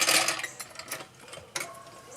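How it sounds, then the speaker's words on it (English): A jack lifting a car's rear axle during rear strut replacement gives off short bursts of mechanical whirring and ratcheting, loudest at the start with a second burst near the end. "I'm going to jack this axle up here so I can get this sway bar link"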